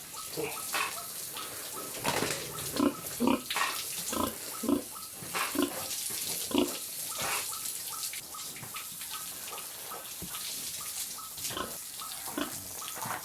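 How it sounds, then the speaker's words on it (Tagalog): Pigs grunt and squeal repeatedly while being bathed, over a steady rush of running water, the noises close and frequent throughout. "Alaga ng mga baboy, papaliguan, papakainin"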